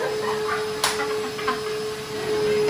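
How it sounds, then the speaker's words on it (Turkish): A wet vacuum cleaner sucking spilled liquid off the floor at home runs with a steady whooshing roar and a thin constant whine. A couple of brief knocks and slurps break through the hum. "Böyle sulu şey döküldüğü zaman hem suyunu hem kırmızısını bir arada çekiyoruz"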